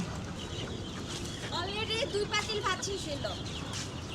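Farmyard chickens cluck and squawk while being fed rice, the bird calls clustering mid-clip under a person talking over steady outdoor noise.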